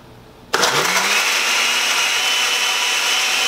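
A home blender starts abruptly and then whirs steadily and loudly as it blends a Starbucks-style drink with ice, with a brief drop in pitch right after startup.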